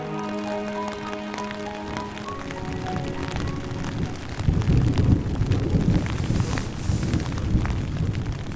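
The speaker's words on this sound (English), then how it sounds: "cool thunderstorm is coming in" A thunderstorm rolls over a backcountry camp, with steady rain hissing and deep thunder rumbling louder midway, close and full.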